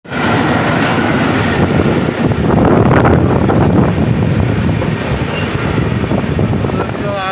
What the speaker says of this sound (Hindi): अभी हमारा ट्रेन छोड़ जा चुका है